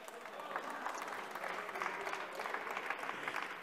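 Applause fills a council assembly hall, with many hands clapping steadily and densely for several seconds, the crowd close and lively.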